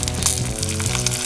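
Mustard seeds, shallots, dried red chillies and curry leaves sizzling loudly in hot oil for a prawn mango curry, a dense, steady crackle heard close up with no talking.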